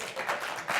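Brief burst of dense, continuous clapping from a TV studio audience, a full crowd applauding at moderate loudness for under a second.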